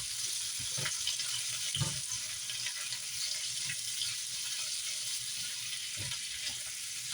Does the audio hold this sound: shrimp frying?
yes